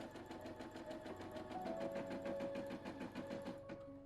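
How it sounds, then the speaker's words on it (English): A Brother Innov-is NV180 embroidery machine stitching the cutting line of an applique piece, a steady rapid mechanical needle rhythm with a whirring motor tone, running continuously and close with no voices. "start by sewing the cutting line of the applique piece"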